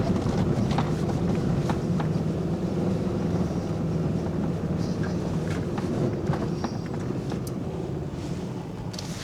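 A vehicle engine drones steadily at high throttle while driving through deep snow in the Idaho mountains, a dense low roar with crunching and rumbling from the tires, continuous throughout without talking.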